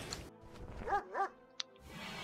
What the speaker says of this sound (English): Woof woof, my doggy.